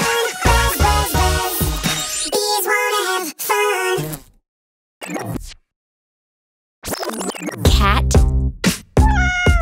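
A cat meows repeatedly in a loud, close burst of varied calls, broken by a few brief silent gaps, with no talking.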